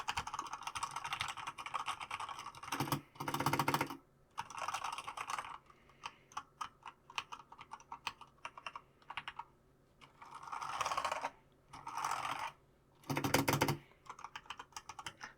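Continuous clicky typing on a nearby Corsair K65 LUX RGB mechanical keyboard with Cherry MX switches, brisk runs of keystrokes broken by short pauses and a few louder, deeper spacebar thocks.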